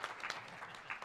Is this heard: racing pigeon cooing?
no